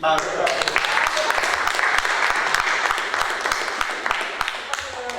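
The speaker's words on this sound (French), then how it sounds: "On peut quand même applaudir Maurice." A crowd at a local political meeting applauds for a speaker, a strong burst of clapping that holds steady and then gradually thins, with voices mixed faintly in the background.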